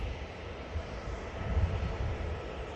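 An Airbus A330 airliner's engines at Manchester Airport give a steady, moderately distant low roar and rumble that holds without break.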